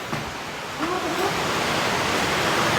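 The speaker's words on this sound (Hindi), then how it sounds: "सामने वाले पहाड़ पे खूब सारे झरने निकल गए" Waterfalls pour down the mountain across a Himalayan village valley, making a continuous broad rushing hiss that is steady and moderately loud, with a faint voice briefly underneath.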